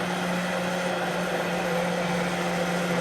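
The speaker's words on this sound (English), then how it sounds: "This is just an emulsion blender." An immersion blender whirs steadily and loudly with a constant motor hum while mixing homemade paleo mayonnaise, and no one speaks.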